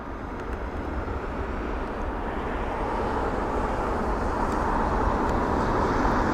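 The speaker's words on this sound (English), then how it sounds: "the next arrival is going to be BA 909, an A319" An Airbus A319 arrives on landing at London Heathrow, a steady broadband jet roar holding at moderate distance and swelling slightly as it approaches, alone with no talk.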